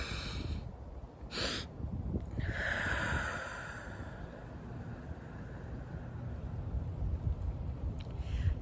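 Slow, deep breaths for a calming anxiety exercise: a long drawn inhale and a steady exhale, airy and close, with a brief sharp intake near the start.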